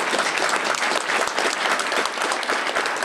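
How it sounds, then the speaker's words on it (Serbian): A political rally crowd in Pambukovica, Serbia, applauding to welcome Republika Srpska president Milorad Dodik, with loud, sustained, dense clapping throughout. "molim vas da ga pozdravite velikim aplauzom"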